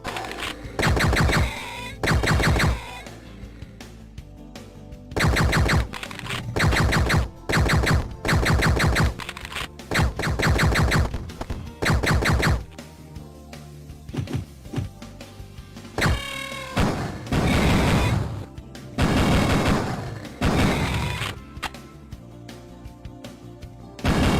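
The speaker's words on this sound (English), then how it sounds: "it also has an alternative firing mode that fires explosive rounds which are more powerful than its normal firing mode that the pistol offers" Pistol fire from the 1995 Duke Nukem 3D beta, including explosive rounds: sharp, loud shots come in spaced clusters, with several heavier, booming blasts mixed among the lighter cracks.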